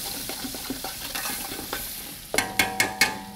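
Garlic sizzles in hot oil for tomato sauce, a soft steady crackle, then several sharp scraping stirs punctuate the sizzle near the end.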